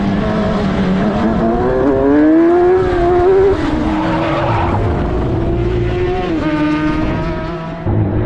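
An F1000 race car spinning during a race, engine howling loud and close as revs rise and fall, with tires skidding and squealing through the spin before the engine note settles.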